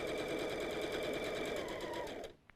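Sewing machine runs steadily while stitching two 1.5-inch fabric strips together, a fast even whirring with rapid needle pulses, close and alone, before coming to a stop at the end.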